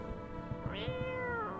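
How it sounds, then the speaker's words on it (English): A cat meows once in the video game No I'm Not a Human, a short rising and falling call heard alone against a quiet background hum. "Pick up the cat, pet the cat."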